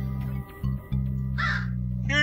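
A crow caws twice in the video game Darkside Detective, harsh close calls over a steady low hum with someone talking at the start.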